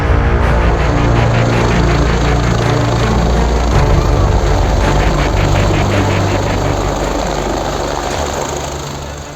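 A helicopter's engine whines and its rotor drones loudly and steadily at close range in Raghopur, Bihar, with a faint rhythmic blade chop under a continuous roar that eases slightly toward the end.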